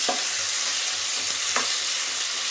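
Tomatoes sautéing in a pan for a duck curry, giving a steady close sizzle with a couple of soft scrapes from stirring, and no talk.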